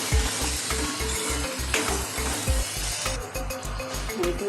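Turmeric, salt and coriander-cumin powder fry and are stirred in a pan for a Kathiyawadi-style whole onion curry: a steady close sizzle with a regular scraping stir.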